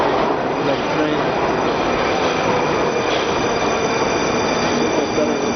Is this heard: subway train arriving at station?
yes